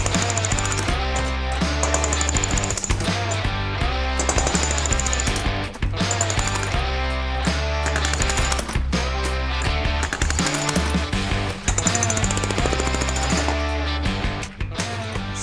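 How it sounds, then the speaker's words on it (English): A jackhammer pounds steadily on a basement concrete floor, loud and close, with a dense continuous rattle and only a few brief pauses as it breaks up the slab. "you want to wail away with the jackhammer"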